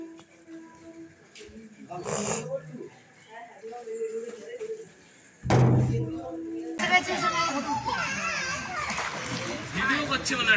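Bathers in the Narmada river at Amarkantak make bursts of splashing water, one short loud splash midway, then continuous busy splashing and churning close by, with people talking and children's voices throughout.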